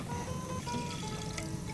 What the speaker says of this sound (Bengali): পানি দিয়ে নিলাম।